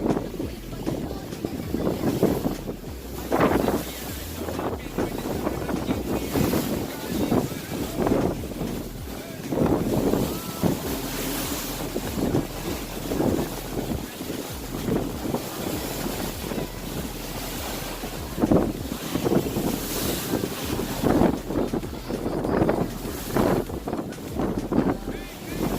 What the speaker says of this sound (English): You should be able to hear it, but the ocean is just ripping.